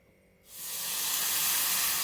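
Water poured into a hot pan with jaggery bursts into a loud, steady hiss that rises quickly and keeps sizzling close by, with no talk.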